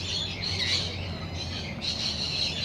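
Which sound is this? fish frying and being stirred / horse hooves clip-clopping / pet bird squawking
pet bird squawking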